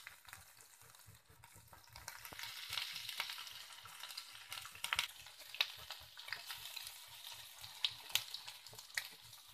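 Grated ginger fries in a pan with a soft, steady sizzle and occasional small crackles and pops, fairly quiet and close, with no voices.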